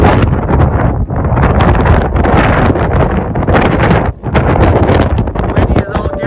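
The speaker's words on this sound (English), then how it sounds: "Windy as all get out." Strong, loud wind roars across the summit of Mount Madison on the Appalachian Trail, buffeting the microphone in a continuous broadband rush with only a brief lull partway through.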